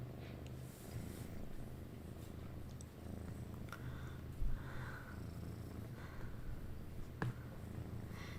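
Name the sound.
cat purring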